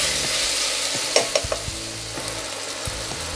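Chopped tomatoes hit hot oil in a pan and fry with a steady broadband sizzle, broken by a few sharp clicks and taps of a stirring spoon against the pan, with no talk.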